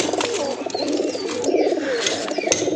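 Captured pigeons, one with painted breast and back feathers, coo nearby in repeated soft, throaty bursts, several birds overlapping with occasional flutter and clicks.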